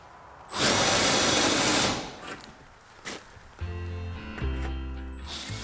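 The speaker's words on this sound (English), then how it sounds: "And then completed the drill for the location of the cable." A power drill bores a cable hole through pressure-treated lumber on a pole barn, one loud sustained burst of whirring and grinding that cuts off, followed by scattered knocks and a lower running motor hum.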